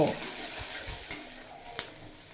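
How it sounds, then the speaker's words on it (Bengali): Chopped onion frying in oil gives a soft, steady sizzle close by, with a couple of faint knocks of a spoon against the pan and no voices. "পেঁয়াজটা বেশ নরম করে ভেজে নেব"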